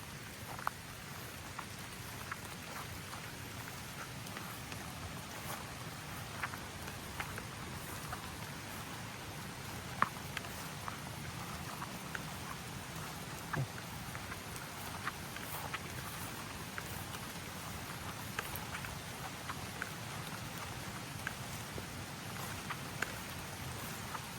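Steady rain patters continuously on a surface, a dense even hiss with occasional louder drops, no voices.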